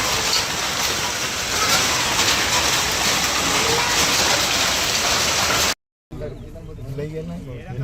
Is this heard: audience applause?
no